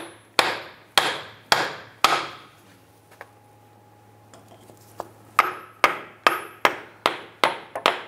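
A hammer pounds on a wood block held against the CV axle of a 2002-2008 Dodge Ram 1500, close and loud, a cluster of four blows, a quiet pause with faint clinks, then a fast run of about eight more.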